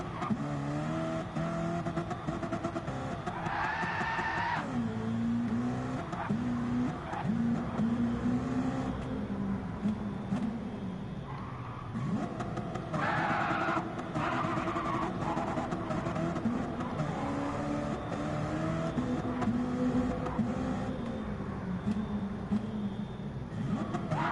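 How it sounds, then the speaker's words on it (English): A car engine in Gran Turismo 7 revs and surges as the car, running without its wing, pulls wheelies, its pitch climbing and falling in repeated bursts, steady and fairly loud, with no talk. "Without the wing, the car cannot do proper wheelies."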